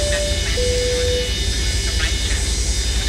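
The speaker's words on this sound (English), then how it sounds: "Number 2 stabilized, starting engine number 3." A jet engine, number three on a simulated airliner, spools up steadily in Microsoft Flight Simulator, with a constant loud whine and rumble and rising tones. Cockpit talk is heard over it.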